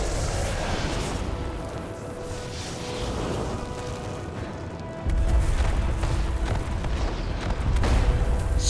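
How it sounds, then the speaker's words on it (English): An explosion in the video game World of Warcraft lands as a sudden heavy boom partway through, set against busy clashing game effects and a sustained low rumble afterward. "Explosion."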